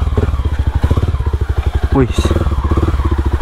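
A motorcycle ridden up a steep hiking trail toward Puncak Upas on Gunung Tangkuban Parahu, its engine chugging loudly and close in a rapid pulsing rhythm, with a brief exclamation from a rider.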